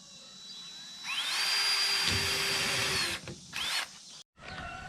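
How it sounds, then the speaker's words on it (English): A power drill whines up to a high, steady pitch, runs for a couple of seconds pre-drilling holes in polycarbonate panels, stops, then spins again in short bursts. "Next, I'm going to pre-drill the holes."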